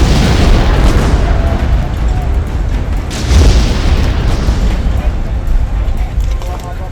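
Heavy bombardment in the Gaza Strip produces loud, continuous rumbling blasts. A deeper boom hits partway through, and the roaring wash of explosions fills the entire stretch.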